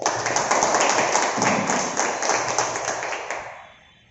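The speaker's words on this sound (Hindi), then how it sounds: "इन चारों विधायकों के लिए एक जोरदार ताली।" Loud, sustained clapping from a crowd at a political rally in Dehri, steady and dense for about three and a half seconds before tapering off.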